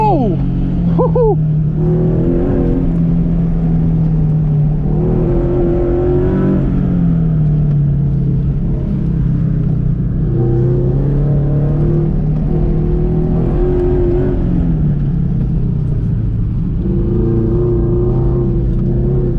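A Subaru FRS driven hard around an autocross course, its engine droning and rising and falling through repeated revs and shifts from inside the car, with voices talking over it throughout.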